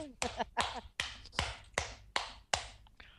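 Seven sharp hand claps in a steady, slightly uneven rhythm, close and dry, each with a quick decay and no voices between them.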